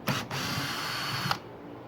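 A power drill drives a screw into raised garden bed wood, with a loud continuous whirring spin that starts and stops abruptly, close up and with no voices.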